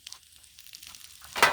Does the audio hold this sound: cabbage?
yes